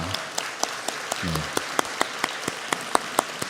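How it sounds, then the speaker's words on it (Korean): Church congregation at a Sunday youth worship service giving welcoming applause, heard as crisp, evenly spaced claps in a steady rhythm, fairly close, with a brief low voice partway through. "저희 함께 환영의 박수로"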